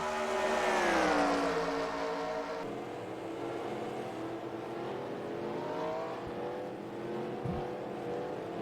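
Engines of race cars heading side by side into a banked corner in a racing video game, a sustained engine drone with pitch sweeps as the cars shift and accelerate, steady and moderately loud with no voices.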